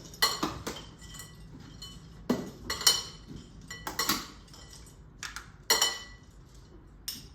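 Gluten-free croutons being tossed into a Caesar salad with utensils, giving irregular clinks and scrapes of metal against a bowl in short bursts with brief pauses between them, close up and with no talking.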